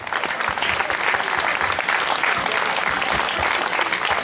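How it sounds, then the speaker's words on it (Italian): A festival crowd at an awards presentation for a special critics' prize breaks into loud, dense applause, many hands clapping continuously at a steady level for the whole four seconds. "un applauso"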